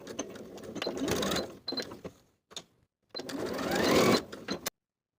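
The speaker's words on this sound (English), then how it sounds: "Sew both sides of the peak with a 1/4 inch seam allowance" A sewing machine stitching both sides of the peak on a plaid wool jacket, with bursts of rapid mechanical chatter separated by brief pauses and a few short taps, close and clear with no talk.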